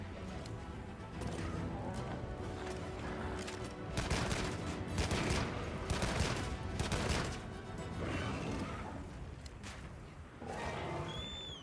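Machine gun fire in Monster Hunter Wilds, bursts of rapid crackling shots rising and falling over several seconds amid game ambience, fairly distant, no talk.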